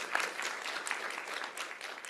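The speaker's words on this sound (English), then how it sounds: "Round of applause" Scattered applause rises from a symposium audience, fairly faint and distant, a short steady patter of hands clapping with no voices on top.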